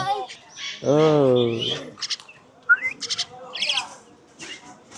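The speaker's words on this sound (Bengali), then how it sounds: "শালিক পাখির বাচ্চা বিক্রি করা হচ্ছে" Common myna chicks chirp for sale at a riverside market in Kuliarchar, giving short, high peeping calls in bursts near the listener, while a voice speaks over a stretch of the calls.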